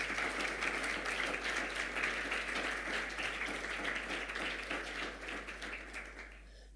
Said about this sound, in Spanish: ¿Cuánto le dan un buen aplauso al Señor?